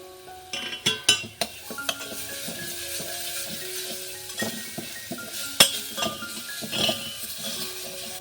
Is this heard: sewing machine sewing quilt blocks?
no